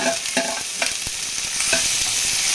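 Tomato, garlic and ginger fry with browned onion in a pan for matar paneer, a steady sizzle broken by the scrape and clink of a spoon stirring, close and fairly loud.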